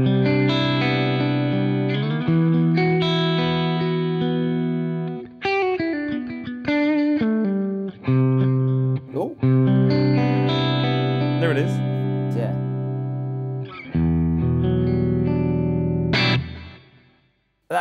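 Electric guitar played through a Budda V20 SuperDrive two-channel amp on a bright, glassy clean tone, sustained chords and single notes ringing out loud and close with chorus-like shimmer and a few short pauses.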